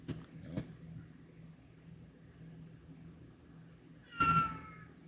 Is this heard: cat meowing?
yes